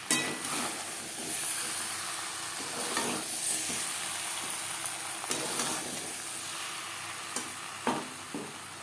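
Potato and pointed gourd fry with spices in a pan, giving a constant soft sizzle broken by intermittent sharp scrapes and clicks of stirring.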